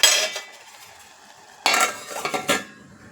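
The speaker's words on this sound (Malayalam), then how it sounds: "നമുക്ക് ഈ കൂട്ട് ഇതിലോട്ടൊന്ന് തട്ടിയിട്ട് ഒന്ന് മിക്സ് ചെയ്ത്" A spoon scraping and clattering in a pan while masala mixture for egg curry is stirred, with one sharp metallic knock at the start, then a burst of busy scraping after a quiet pause.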